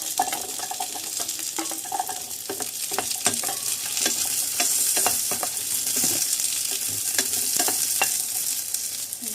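Onion and garlic stir-fry in a hot pan for chicken, a constant loud sizzle under repeated scraping and clinking spatula strokes, with no talk.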